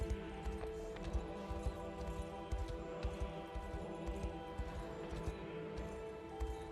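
Horse hooves clip-clop in the strategy game Unicorn Overlord, a steady rhythmic trot set against soft game music, moderately quiet and without speech.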